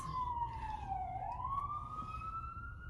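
A wailing siren on a New York City street sweeps down and back up in pitch, loud and steady over a constant low rumble of city traffic.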